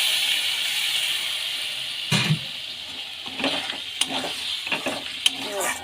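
A curry of potato, papaya and beef fat sizzles in a pan, a steady hiss broken by stirring scrapes and splashes as a little water is poured in.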